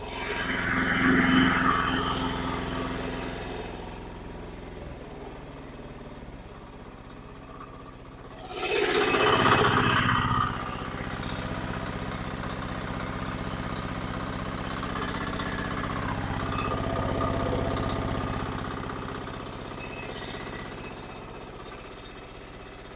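A Husqvarna TF545DE diesel walk-behind tiller is hand-started in about -15°C frost, giving a rough, steady mechanical clatter with a louder surge partway through, close by and with no talk.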